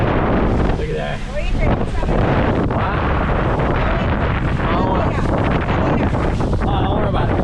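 A boat pounding across choppy water on the way to a sandbar, with heavy wind buffeting the microphone throughout, steady loud roar of hull and spray, and voices talking over it.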